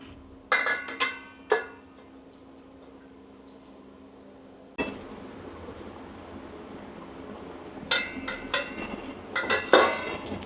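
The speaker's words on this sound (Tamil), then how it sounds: "மூடி வச்சிடலாம்." A lid goes onto a metal pot of simmering Tamil fish curry, with several sharp clinks and clatters near the start, then a quieter stretch and more clattering of cookware toward the end, no talking.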